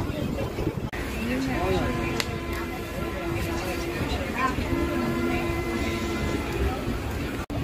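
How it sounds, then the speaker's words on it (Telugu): Dhone–Guntur Express pulling out of Diguvametta station after a one-minute stop, heard from on board as a steady rumble with squealing wheel tones and clanks, while someone talks over it. "వన్ మినిట్ అఫీషియల్ స్టాప్ తర్వాత మన ట్రైన్ దిగువమెట్ట నుంచి అయితే బయలుదేరిపోయింది."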